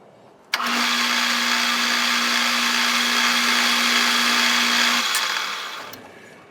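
A machine tool cuts a chamfer on a small control knob, a steady whirring hum starting abruptly, holding for about four and a half seconds, then spinning down and fading.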